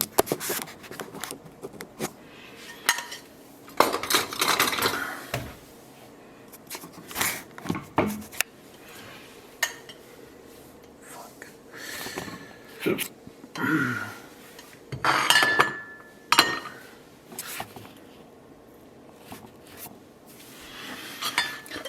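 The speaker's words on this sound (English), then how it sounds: "I will take my tongs, I will scoop out pasta, and I'll give it a little twist" Tongs scooping cooked pasta for ragù alla Bolognese and twisting it onto a plate, heard as scattered metallic clinks, scrapes and rubbing against the dish, close and fairly loud in uneven bursts with no talking.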